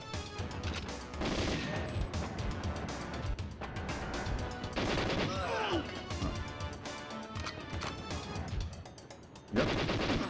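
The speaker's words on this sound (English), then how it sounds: "These guys can be dangerous because of their double machine guns." Dense bursts of double machine gun fire in the GoldenEye 007 game on N64, rapid loud rattling volleys with brief pauses between them.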